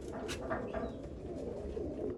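Pure Hazara pigeons cooing in a loft, soft low throaty coos repeating close by over a faint steady background hum.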